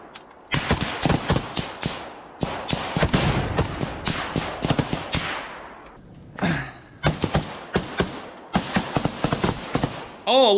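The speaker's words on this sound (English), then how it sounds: "Oh, a little grenade toss." A small grenade explosion in a combat zone comes amid rapid bursts of cracking gunfire that fill the clip in dense clusters, loud and close, with short gaps between volleys.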